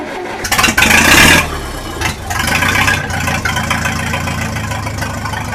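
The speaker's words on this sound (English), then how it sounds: "Bump the throttle a little bit." A 1966 U302 engine revs up hard as the throttle is bumped, a loud surge that drops back and settles into a steady idle.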